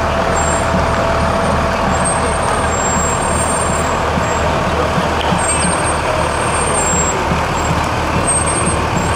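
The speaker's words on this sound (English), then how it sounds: "Hear those squeaky brakes is really cool." A large fire truck idles loudly and steadily as its squeaky air brakes let out thin, high squeals several times over the rumbling engine, at a parish festival parade.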